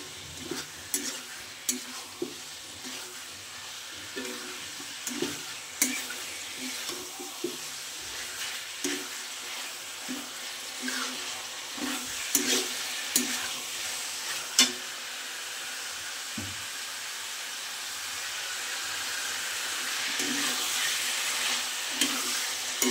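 Beef tripe sautéed in a pan, a low continuous sizzle broken by regular scraping and clinking stirs, close and moderately quiet, the frying hiss swelling toward the end.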